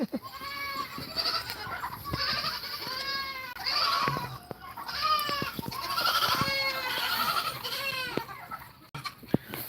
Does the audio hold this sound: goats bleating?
yes